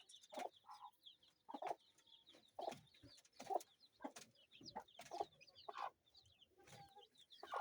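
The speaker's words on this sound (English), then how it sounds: "You can see the mother there with her chicks" A hen clucks with her chicks on a Kenyan kienyeji chicken farm, giving repeated short clucks at a fairly steady pace, nearby but soft, with faint high chick peeps in the background.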